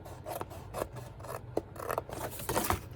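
Scissors snipping through cardstock while making a Christmas box, a close, quiet series of crisp rasping cuts in an irregular rhythm.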